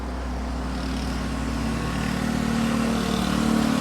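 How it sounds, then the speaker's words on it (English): Mopeds drive past outdoors, a steady droning engine hum that swells slightly louder toward the end, with no talking. "Mopeds going by."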